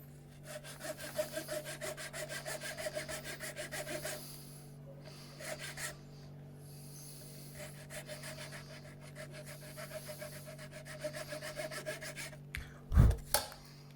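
A part of a VW Touareg door lock is filed by hand in quick rasping strokes, close and fairly quiet, with short pauses between bursts and a sharp knock near the end.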